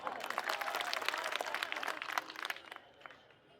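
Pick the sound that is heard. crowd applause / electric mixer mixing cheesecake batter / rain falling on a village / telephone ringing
crowd applause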